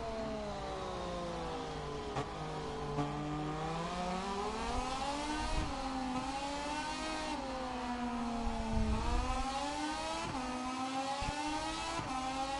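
Moto2 racing motorcycles at the Misano circuit, with a high engine whine that rises and falls steadily through gear changes and corners, a continuous close onboard roar with no voices.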